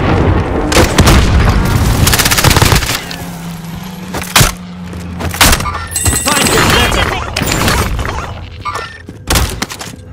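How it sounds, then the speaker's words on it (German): Heavy booming explosions from an enemy precision airstrike in Call of Duty: Warzone, several loud blasts and thuds with splintering debris spread across the stretch, under game voice callouts. "Feindlicher Präzisionsluftschlag, aufpassen!"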